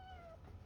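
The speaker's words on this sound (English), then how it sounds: "Don't give me that meow like I'm torturing you." An unhappy pet cat gives a single short, drawn-out meow, faint and alone against a low background hum.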